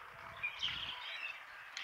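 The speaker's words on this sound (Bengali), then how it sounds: "এক ঝাঁক শালিক।" A flock of mynas calls at dawn along a rural road in Gazipur, a brief cluster of bright chattering chirps at moderate distance over a low rumbling background, no talk.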